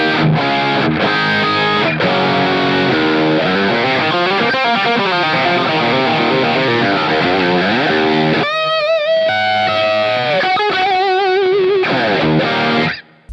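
An old Greco EG800 electric guitar with a mahogany body plays through heavy distortion, a loud run of chords and riffs followed by sustained bends and single notes.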